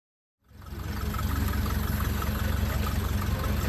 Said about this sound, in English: Nice sounding 1931 coupe.